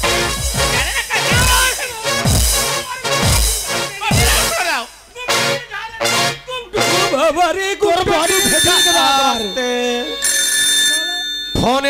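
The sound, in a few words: telephone ringing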